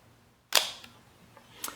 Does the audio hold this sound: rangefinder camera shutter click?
yes